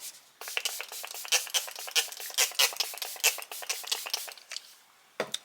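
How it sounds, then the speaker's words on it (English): A rapid series of short hissing spritzes from a spray bottle, repeated in quick bursts for several seconds, close and fairly loud. "Hold on, let me spray."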